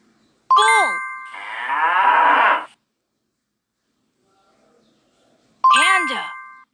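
A bull moos in a kids' animal sounds matching game: a chime plays, then a single long low moo, followed after a pause by another short chime.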